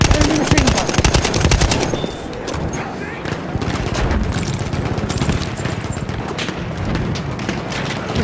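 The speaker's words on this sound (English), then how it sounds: "machine gun! Machine gun!" Rapid, dense machine gun fire and explosions rattle through a Battlefield 1 World War I battle in an operations match on PS5, loud and continuous, with shouting voices in the mix.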